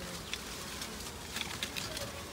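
Bees swarming around a large Kombu honeycomb outdoors, a dense continuous buzzing drone with scattered louder passes of individual insects close by, steady throughout.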